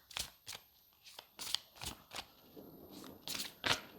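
Large oracle cards being shuffled by hand, a quiet series of crisp riffling bursts and soft slaps close to the listener, with no talking.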